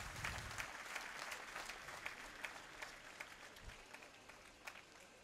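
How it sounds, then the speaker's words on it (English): Audience at a graduation convocation claps after a gold medal award is announced, a steady, moderately distant patter of many hands with no talk over it. "A big round of applause"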